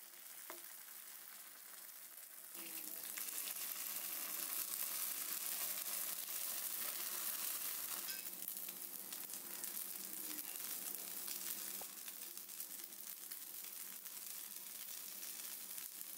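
Kara kuzhi paniyaram batter spooned into an oiled paniyaram pan sizzles and fries. The crackling starts softly, then jumps into a steady, busy, fairly quiet sizzle that carries on with no talking.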